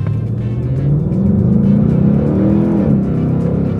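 Ford Mustang GT500 engine held on throttle with a loud, steady low rumble, close and continuous, with no voices over it.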